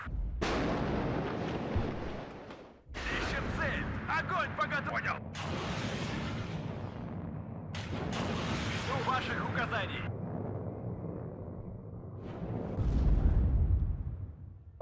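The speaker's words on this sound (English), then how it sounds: "eventually we can just smash the far side with artillery" Artillery barrages in the WARNO real-time strategy game, with rumbling blasts and heavy impacts mixed in with battlefield noise and continuous talk.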